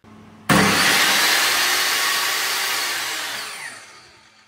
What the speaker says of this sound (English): A big plus is that the saw has a brake and stops very quickly.